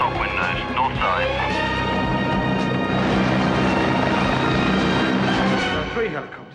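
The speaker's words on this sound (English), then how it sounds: "There are 3 helicopters." Three helicopters in a military standoff scene, heard as a loud continuous rotor roar that swells and fills the clip, with sharp transient bursts layered over it.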